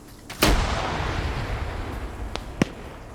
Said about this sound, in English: Grenades being thrown out of the compound.